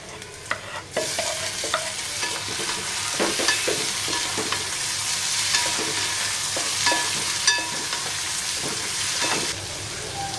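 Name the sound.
onion and tomato frying in a pan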